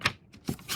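A folded sheet of paper is opened out during simple box-making, giving three short crisp rustles close up, with no talking.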